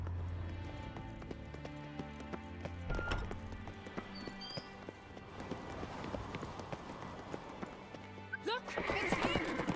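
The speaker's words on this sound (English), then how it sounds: "Grab a horse, we'll chase him down." Horse hooves clip-clopping at a run in the video game The Witcher 3, steady and continuous under game music and talk, with a neigh near the end.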